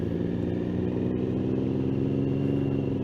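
A Kawasaki Vulcan S motorcycle engine drones steadily up close with a low, even rumble and faint clatter, holding a constant level throughout with no talking.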